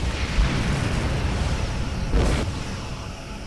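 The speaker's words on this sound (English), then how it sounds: "Oops, and I exploded." A spaceship blows up in Star Trek Online space combat: a dull, muffled burst swells briefly midway through a steady low rumble of engine and battle noise, with a softer thump near the start.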